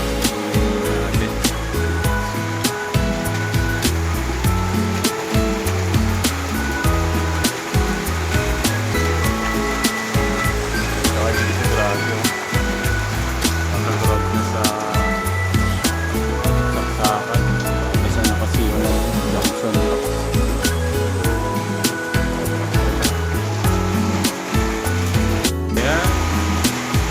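Heavy rain pours steadily in a dense, constant hiss with dripping and splashing, loud and close throughout, as during a day of flooding.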